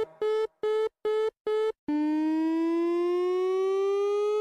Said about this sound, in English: This sound means a gate in the east quadrant was left ajar.